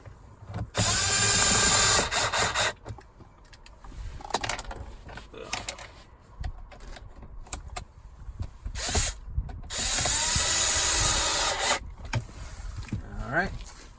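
Screws being driven back in with a power driver while refitting the cabin filter cover on a Ford F-150, two long whirring runs with ratcheting clicks and handling noise between them, close by.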